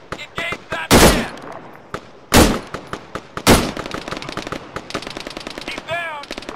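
Video game gunfire in Arma 3, with a soldier being engaged: three heavy close shots ring out amid rapid machine-gun bursts and scattered distant rifle fire, with radio-style voices faintly mixed in.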